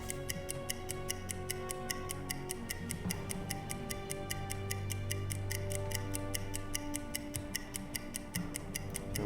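In the UBOAT submarine game, a stopwatch clock ticks steadily and evenly during a ship speed check, crisp regular ticks over a low hum of ambient noise, with no voices.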